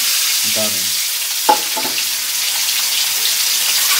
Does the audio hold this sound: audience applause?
no